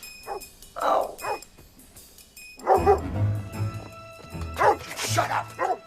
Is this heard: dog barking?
yes